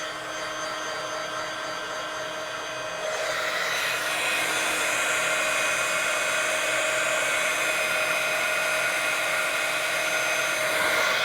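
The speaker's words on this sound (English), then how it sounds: "I'm going to heat up my heat tool and I'm going to melt this powder." A heat tool used to melt embossing powder on papercraft whirs with a steady airy blowing hiss that jumps louder a few seconds in and then holds evenly, close and with no speech.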